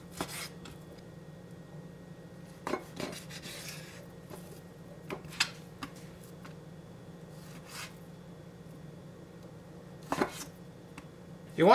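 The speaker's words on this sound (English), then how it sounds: "we're going to cut it to strips, and we're going to marinate it before we start cooking it" Knife slicing steak into strips on a board, a sparse series of soft thuds and brief scraping cuts spaced a second or more apart, close and fairly quiet with no talk.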